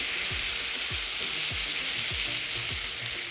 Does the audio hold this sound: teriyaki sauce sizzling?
yes